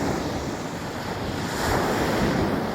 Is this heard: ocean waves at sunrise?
yes